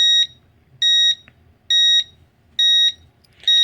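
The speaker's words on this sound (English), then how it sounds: "Now no matter what I press, activate, deactivate, or the doorbell itself, the fire alarm remains on." A fire alarm on a demonstration alarm system sounds in a steady repeating pattern of loud, shrill electronic beeps, each about a third of a second long and spaced roughly a second apart, with no one talking.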